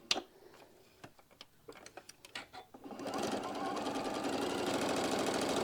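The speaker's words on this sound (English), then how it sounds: "So I got my machine set up, and we're going to start getting all of our stitches done." A sewing machine stitches fabric for a sewing project, starting with a few scattered clicks and taps, then running steadily from about three seconds on as a continuous close, loud mechanical whir with rapid needle ticking.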